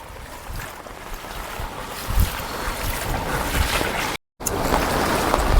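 Floodwater from the Girna dam surges past a riverside temple in a loud, continuous rushing roar, mixed with wind buffeting the microphone; there is a brief dropout near the end.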